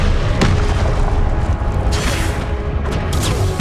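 Confringo blasting spell explosions in Hogwarts Legacy, a dense run of loud booming impacts and crackling bursts over continuous battle noise, several sharp hits spaced a second or so apart.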